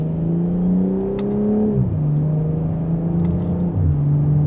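A 2026 BMW M440i Gran Coupe in Sport Plus mode accelerating in second gear, engine note climbing steadily from inside the cabin, then dropping briefly and rising again, loud and close.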